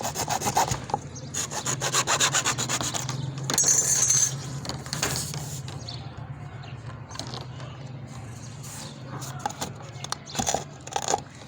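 A hand saw rasps through an electrical junction box during pipe fitting in a room, steady back-and-forth strokes for several seconds that thin into lighter scraping and clicks.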